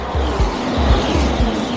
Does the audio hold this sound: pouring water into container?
no